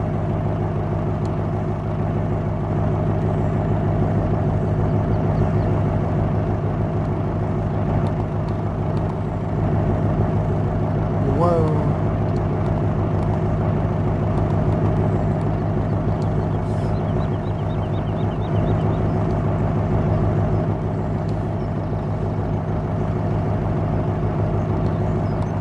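A truck engine in Farming Simulator drones steadily and loudly throughout while hauling a load, a constant low rumble with no break.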